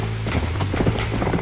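Horse hooves clop rapidly in Red Dead Redemption, a quick, galloping rhythm close up over a steady game soundscape, with no talk on top.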